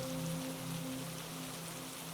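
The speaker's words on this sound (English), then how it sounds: "the rain was there, its fine, familiar tapping against the glass" Fine rain taps against the glass of a sleeper train window at night, a soft, constant hiss of drops over a faint low hum.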